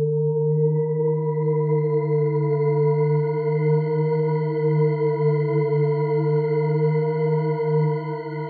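Sustained synth pad from Arturia Pigments 4 using super unison and shimmer effects: a thick, buzzy drone rich in overtones with a wide chorus-like shimmer. It holds steady and loud for over eight seconds.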